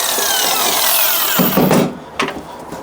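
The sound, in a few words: miter saw cutting a wooden board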